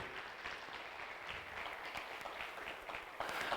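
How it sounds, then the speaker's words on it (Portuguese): An audience at a public hearing on a city master plan applauds the presenting team, a faint, steady patter of clapping heard from a distance that swells slightly at the very end. "eu gostaria que vocês dessem uma salva de palmas aqui para a equipe que apresentou esse trabalho hoje"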